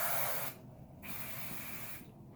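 Bedhead TIGI massive shine hairspray spraying from an aerosol can close up, a loud steady hiss that cuts off, resumes for about a second, then pauses again, with no talking.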